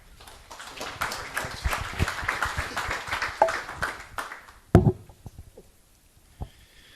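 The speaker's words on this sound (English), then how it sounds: "Please give him a round of applause" Applause at a formal energy forum for the German embassy's head of cooperation, a dense burst of clapping from the assembled audience that thins out and fades to a few scattered claps.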